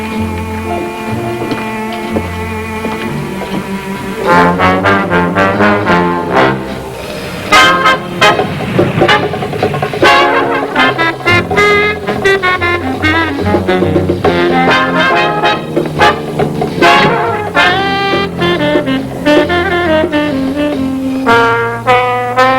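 In a radio drama, a car pulls around to the front and honks several times in bright repeated toots over music and engine noise. The horn blasts are loud and close.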